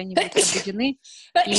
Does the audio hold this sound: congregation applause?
no